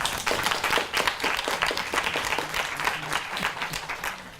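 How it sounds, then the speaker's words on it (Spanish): Welcoming applause from a seminar audience at a talk on gender violence, a full, sustained patter of many hands clapping at moderate distance with a few louder individual claps standing out. "aplauso de bienvenida."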